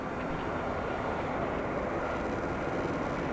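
An airliner taking off from a runway at Dublin Airport, a steady broadband engine roar heard from a distance, constant and moderately faint with no voices.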